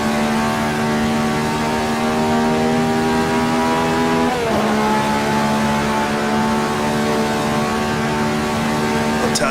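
Race car engine from 1967 on the Monza circuit in Assetto Corsa, loud and close as it accelerates hard in fourth gear, the steady whine rising in pitch, dipping briefly at a shift, then climbing again.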